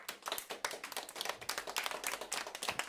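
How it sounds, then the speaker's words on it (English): Rhythmic hand claps within a modern pop-styled cover of a ballad, crisp and regular, sitting over the music at moderate level. "All the claps."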